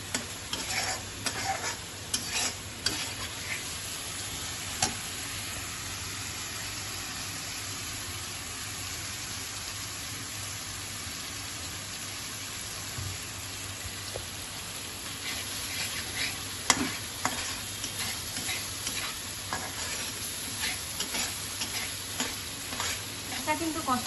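Spices for chana masala sauté in a pan under a continuous close sizzle, broken by repeated scraping strokes of the stirring spoon, busier toward the end.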